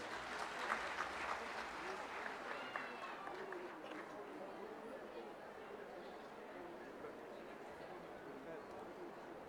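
Crowd applause fills the open-air opening ceremony of the Manali Winter Carnival, a dense, steady wash of clapping from a large audience with chatter and cheering mixed in, loudest at the start and holding through to the end.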